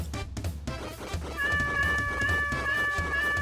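A cat meows in Deltarune, a drawn-out, wavering electronic-sounding mew that holds steady over a rumbling game backdrop.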